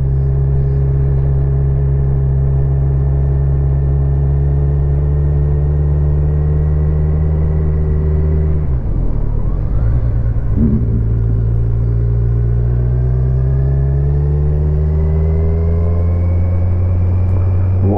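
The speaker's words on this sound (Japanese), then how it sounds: "今のサーブかな。 もうサーブって車作ってないのかな。" A Saab car passes by near a campsite at a dam, heard over the steady low drone of a nearby motorcycle engine, with a brief swell of passing noise around the middle before the engine tone resumes.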